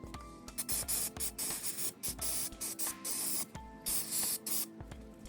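Aerosol brake cleaner sprayed onto a front brake caliper from a 1971 C3 Corvette being rebuilt, heard as a string of loud, close hissing bursts of varying length with brief gaps, and no talking.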